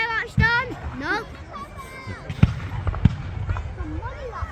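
Fireworks bang and crackle on Bonfire Night in Elgin, with sharp reports near the middle and whistling rockets early on, scattered under a crowd's chatter and nearby voices talking.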